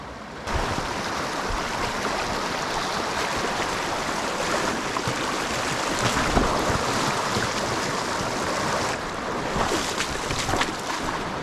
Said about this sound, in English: I was going to cross this river I got going on right here